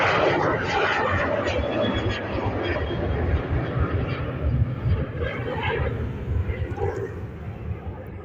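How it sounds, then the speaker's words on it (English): A Ryanair Boeing 737 takes off at an airport with a steady, broad jet roar that holds strong and continuous throughout, heard from a moderate distance with no talk over it. "beginning that short journey to Kerry, operated by Ryanair. It's a Boeing 737."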